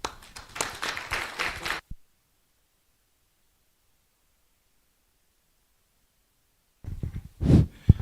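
A brief burst of audience applause closes a seminar talk on the African Union, lasting about two seconds before cutting to silence, followed by a short muffled noise near the end.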